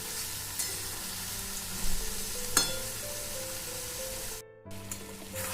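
Yogurt chicken sautés with spices in a pan over medium heat, a quiet, low sizzle with a few soft clinks of a utensil and a brief drop in sound near the end.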